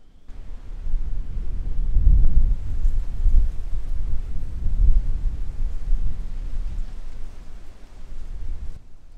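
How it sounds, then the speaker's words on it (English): Wind gusts roar across the microphone outdoors during a pistol shooting session, a low, buffeting rumble that swells and fades continuously, with no voices. "Hopefully this wind kind of cooperates."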